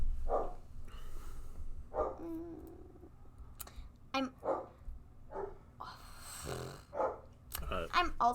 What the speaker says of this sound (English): I'm gonna take care of the dog real quick.